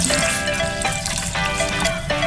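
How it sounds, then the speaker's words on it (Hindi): Ice-cold water is poured into Kashmiri chai as it boils, giving a continuous close, dense bubbling and splashing wash with no pauses or voices. "यक ठंडा पानी डालना है इसमें पकते हुए।"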